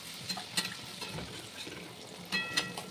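Malpua sizzles in ghee in a pan, a soft crackling fry with a few louder spatters and occasional stirring clicks, close and without talk.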